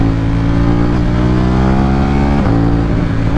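KTM Duke 790 motorcycle with an Akrapovic exhaust, heard up close as a loud, steady engine drone with a brief rise in revs near the end.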